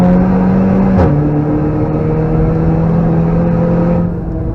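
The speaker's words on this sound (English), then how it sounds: "Turn in and full throttle." Car at full throttle on the Nurburgring, a loud, steady engine drone heard from inside the cabin, with a brief pitch dip and shift about a second in, then easing slightly near the end.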